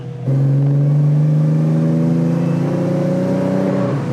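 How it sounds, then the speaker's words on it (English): A Mercedes 190E fitted with a twin turbo V6 engine, heard from inside as a loud, steady, droning engine note that holds at an even pitch for several seconds, close and without talk. "So this doesn't sound like any Mercedes that I've ridden in or any Ford. So, But it kind of sounds right? It sounds like some German muscle car"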